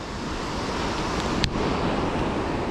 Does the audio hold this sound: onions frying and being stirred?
no